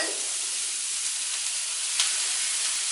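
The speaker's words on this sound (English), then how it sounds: "I'm just going to saute these until they're nice and translucent." Diced celery and carrots sauté in a pan with a little water, giving a continuous close steamy hiss and faint sizzle throughout, with no speech.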